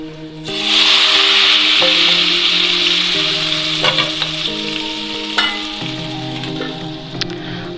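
Hot oil and spice tempering (tadka) sizzles loudly in a pot of saag, a steady bright hiss with occasional clinks of a spoon and soft music underneath.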